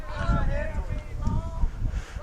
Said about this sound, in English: the wind is blowing like crazy right now